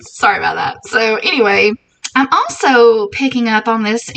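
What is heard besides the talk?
No distinct noise like a dog, phone or traffic.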